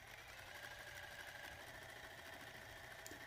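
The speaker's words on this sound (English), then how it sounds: "I'm going to bring all three of these sections over to the sewing machine" A sewing machine stitches quilt seams steadily, its rapid needle chatter and motor whir continuous and even throughout, fairly quiet, with no talking.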